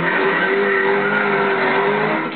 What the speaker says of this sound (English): Welcome to the world of drifting.